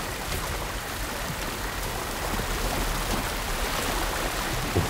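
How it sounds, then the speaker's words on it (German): Waterfall in the video game No Rest For The Wicked, a steady broadband rush of falling water filling the scene at moderate level, continuous and unbroken with no voices. "Hinter dem Wasserfall, ja?"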